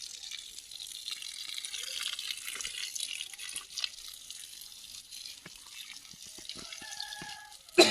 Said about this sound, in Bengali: জলটা খুব একটা স্পিড নেই, পাইপটা খুব সরু তো